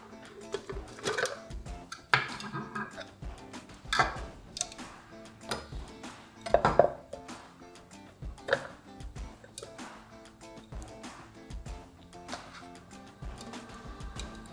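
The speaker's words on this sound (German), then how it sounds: "die Ränder kommen in meinen Zerkleinerer" A food chopper grinds toast crusts into breadcrumbs with a choppy, rattling whir in short irregular bursts, the blades clattering close by against a quiet kitchen background.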